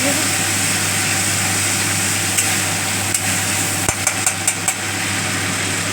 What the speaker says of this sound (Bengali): বেশি ভাজবো না অল্প ভাজবো